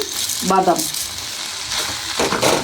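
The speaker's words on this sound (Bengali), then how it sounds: "বাদামগুলো দিয়ে আবারও ভালো করে নেড়ে চেড়ে দিলাম" Boiled potatoes and peanuts being stirred and mashed in a frying pan, with a soft sizzle and scraping strokes running throughout, fairly close, and a brief voice briefly in the middle.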